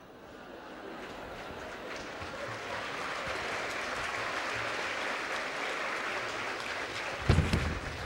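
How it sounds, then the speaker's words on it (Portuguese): Sustained applause from an audience at a Spiritist event, building over the first second and then holding steady as a dense wash of clapping, with a brief louder burst near the end. "Perguntam se vocês aplaudem porque é em francês"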